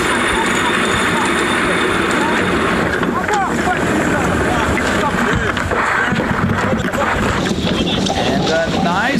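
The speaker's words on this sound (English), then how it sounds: "here we are on board as we listen to Team Tahiti putting in a jibe" Team Tahiti's sailboat crew works through a jibe on board during a race, with steady wind rush on the microphone, water hissing along the hull and gear rattling throughout, under occasional voices.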